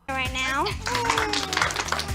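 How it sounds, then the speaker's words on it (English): Clapping dubbed in over footage of a girl and her pet cockroach dressed as a bee, a dense spatter of hand claps running under continuous speech for most of the clip. "I noticed they added in the clapping because no one's clapping"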